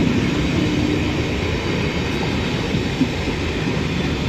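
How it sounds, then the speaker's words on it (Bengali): Steady rumbling of a local train from Ranaghat drawing near, a continuous low roar of wheels and carriages with no talking. "ওই যে ট্রেন আসছে"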